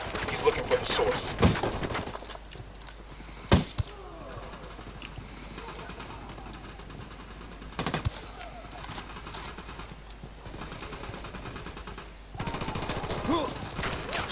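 Gunfire in the tactical shooter Ghost Recon Wildlands: sharp rifle shots crack in scattered bursts near the start and end, with a louder single report in between, as players talk over the firefight.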